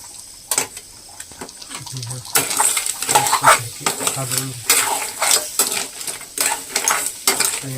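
Crab frying in a pan as fry masala is sprinkled over it, with a steady sizzle and repeated clinks and scrapes of a utensil stirring against the pan, close and fairly loud.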